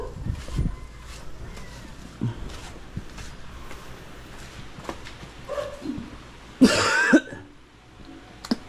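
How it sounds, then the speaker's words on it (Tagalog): A person coughs and clears their throat while recovering from flu, with scattered soft coughs and a louder burst of coughing near the end, fairly close and quiet against background room noise. "Kaso pumalit naman, ubo."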